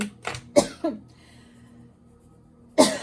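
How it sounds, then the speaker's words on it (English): A person coughs several times in short, sharp bursts, close to the microphone, with a pause and then another cough at the end. "Sometimes this cough comes and goes."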